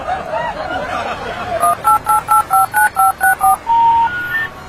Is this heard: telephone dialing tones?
yes